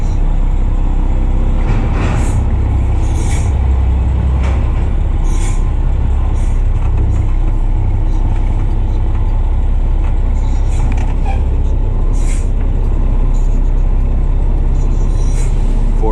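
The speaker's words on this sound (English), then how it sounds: "The recycle truck is here again." A recycling truck works close by, giving a steady low engine rumble throughout with brief sharp hissing bursts and clanks scattered over the top; no one speaks.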